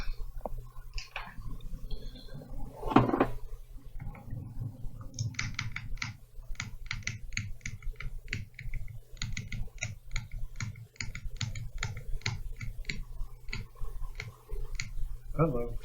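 Rapid clattering keystrokes on a glowing orange-backlit computer keyboard attached to a Ryzen 7 1700 PC build, bursts of close typing with brief pauses, and a voice briefly speaking near the start.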